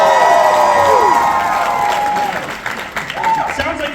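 A large crowd at the Midsummer Scream convention cheers, whoops and applauds loudly, with shouts rising over sustained clapping that gradually thins out while a presenter speaks.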